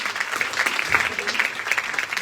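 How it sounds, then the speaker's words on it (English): A stage audition event for Mrs India Worldwide in Delhi, where an audience claps steadily in a dense, continuous patter to welcome a guest, with a voice talking over it. "A huge round of applause for her."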